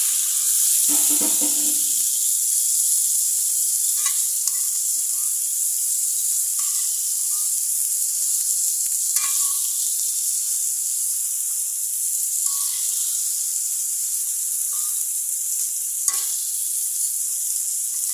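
Taro corms are added to spices already fried for a fish curry, and they sizzle in a steady, even hiss with soft scrapes and stirring knocks scattered throughout.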